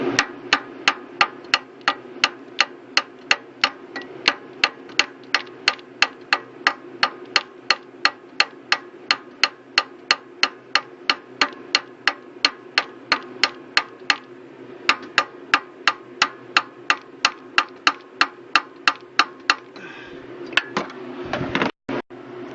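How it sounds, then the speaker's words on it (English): A mallet taps a part into place beside a car radiator during a water pump job on a 2006 Chrysler 300, producing a long, even series of sharp close knocks at a steady rhythm, then a louder final clatter. "you'll probably have to take a mallet like this and ease it on there"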